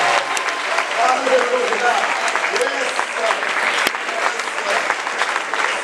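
Church congregation applauding during a worship service, steady dense clapping throughout with a voice calling out over it.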